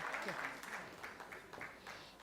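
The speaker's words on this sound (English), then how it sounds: "Please, another round of applause for him." Audience applause at a TEDx event at Nile University of Nigeria, moderate and steady clapping over about two seconds, slightly fading toward the end.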